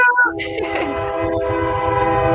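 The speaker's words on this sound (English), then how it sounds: "Do I hear a horn again? What's the train again?" A loud, sustained train horn blares nearby, holding a steady chord over the rumble of the train.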